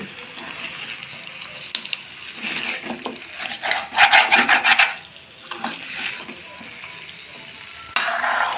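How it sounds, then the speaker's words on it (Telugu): Chicken pieces coated in ginger paste are stirred in a pan, giving close scraping, rubbing strokes over a soft sizzle, with a denser burst of stirring in the middle. "కింద ముక్కలు పైకి పై ముక్కలు కిందకి ఆ కింద అల్లం పేస్టు అంతా దీంట్లో కలిసే విధంగా చిన్నంగా కలుపుకోవాలి"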